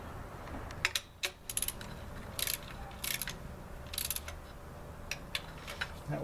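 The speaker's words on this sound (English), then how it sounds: "you can hear the torque wrench click" Sharp metallic ratcheting clicks come in short bursts, with a few louder snaps of a torque wrench clicking over, close up, in a quiet room, while tightening a valve cover on a 2003 Hyundai.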